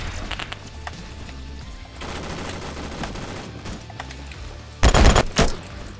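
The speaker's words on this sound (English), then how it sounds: "Obliterate us with a 20 mil bullet" Heavy gunfire in the video game Phantom Forces, with a steady rattle of automatic shots through most of the span and a loud, close burst of 20 mm rounds near the end.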